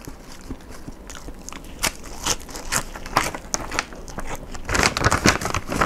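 Close, crisp crunching bites and chewing of crunchy konjac imitation squid snack, seaweed flavored with a mala aroma, in repeated irregular bursts with no talking.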